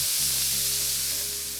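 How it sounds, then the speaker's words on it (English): Ground bison browning in a pan for crispy lettuce-wrap filling gives a steady, close, loud sizzle that runs the whole time with no one talking. "So we got a pound of bison, and you wanna just brown it really well."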